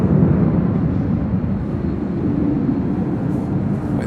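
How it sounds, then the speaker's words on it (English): Delta Airlines Boeing 737-900ER jet, six years old, at LAX: a loud, steady broadband jet roar that holds close and constant throughout, with no voices. "With these 737-900ERs, they are loud."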